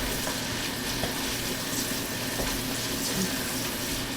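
Fennel cooks in a pot as the base for cioppino, giving a steady broadband sizzle and soft bubbling hiss that holds even and moderately close through the whole stretch, with faint clinks and no voices.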